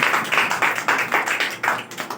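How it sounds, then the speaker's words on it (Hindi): A congregation claps loudly in praise of Jesus during a worship service, rhythmic hand claps close and steady with a few irregular bursts, no voices over them. "आइए हम यीशु के लिए जोर से ताली मारेंगे"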